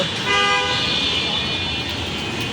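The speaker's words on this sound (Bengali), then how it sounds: "সব সময় যানজটের শব্দ।" Constant roar of traffic on a busy main road beside a home, with a car horn tooting for about half a second early on over the steady wash of engine noise.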